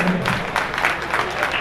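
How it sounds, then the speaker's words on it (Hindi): Loud applause from an audience at a religious function honoring a Jain acharya's installation anniversary, a dense steady wash of clapping lasting the whole short stretch with no clear voices. "बहुत जोरदार तालियां"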